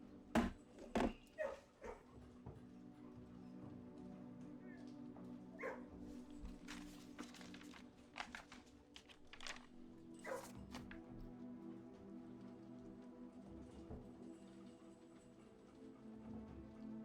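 A dog in a video game barks in a few sharp yips early on, followed by scattered faint clicks and patters over a quiet background, with no talking.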